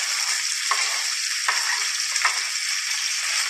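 Onion with garlic fries in a pan, giving a loud, steady sizzle broken by three short stirring scrapes and no voices.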